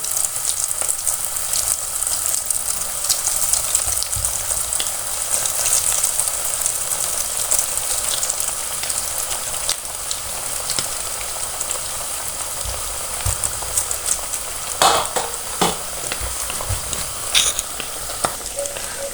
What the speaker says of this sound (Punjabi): ਪਹਿਲਾਂ ਤੇਲ ਗਰਮ ਤੇਲ ਚ ਪਾਉਣੇ ਆ ਫਿਰ ਆਪਾਂ ਨੇ ਥੋੜਾ ਸੇਕ ਘੱਟ ਕਰ ਦੇਣਾ